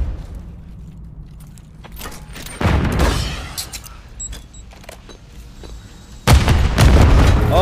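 A bomb detonates in a Call of Duty online match: two loud, sudden booming blasts, each followed by rumbling debris, stand out over quieter game noise and scattered clicks.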